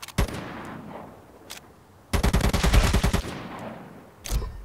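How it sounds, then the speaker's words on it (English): Gunfire during accuracy shooting practice in the mobile game ZOZ: Final Hour: one loud shot near the start, a sharp burst late in the clip, and a dense rapid automatic volley in the middle, with no talking. "Let's try some accuracy shooting."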